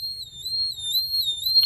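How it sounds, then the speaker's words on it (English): A gas meter sounds its alarm as a continuous, piercing high-pitched tone that wavers slightly in pitch and holds steady over a low background rumble. "I'm going to try to turn the alarm off"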